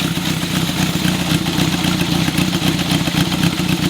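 An original Honda CB750 Four motorcycle engine idles steadily and close by, a low rumbling thrum with mechanical clatter, holding an even pitch throughout.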